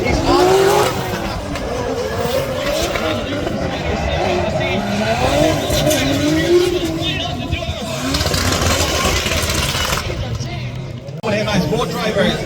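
Drift cars launch off the line at the Irish Drift Festival in Rosegreen, Co Tipperary, with loud revving engines and squealing tyres that roar continuously throughout while a commentator talks over the noise.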